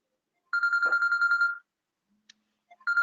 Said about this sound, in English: My phone is ringing.